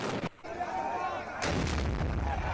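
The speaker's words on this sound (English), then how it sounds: "firing rifles and rocket launchers." Rifle and rocket launcher fire in the streets of Baghdad during fighting between rival Shiite groups, two loud sharp blasts with echoing tails and a lull between, heard at a distance.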